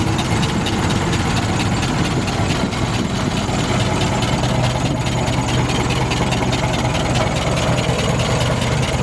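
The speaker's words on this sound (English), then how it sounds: "Now we're in high gear. Now we can speed up again" A 1915 Ford Model T engine runs in high gear while speeding up, a steady, loud, close rumbling drone with a rapid chugging beat, no voices.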